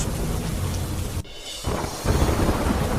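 Heavy monsoon downpour in Surat, Gujarat, roaring steadily and loudly, broken by a rumble of thunder and a brief lull before the rain surges back even harder.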